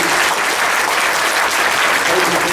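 An audience at a Christmas gathering claps for veterans. The applause is loud, continuous and close.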